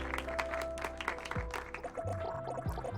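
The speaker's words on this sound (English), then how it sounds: "The previous comedian steps down from the stage to some paltry claps" Sparse, thin clapping from a small in-game audience at a comedy club stage in an Overwatch dating game, as the previous comedian steps down. Plays under a steady game music bed, quiet and fairly distant.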